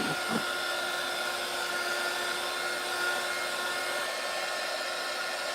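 A hair dryer runs steadily and loudly throughout, blowing to dry paint on a model truck, a constant close whirring hum with no talk.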